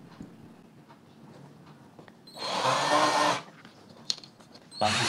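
A power drill drives a screw in two bursts of whirring motor noise, a longer one lasting about a second and a shorter one at the end. Quiet background and a single click fall between them.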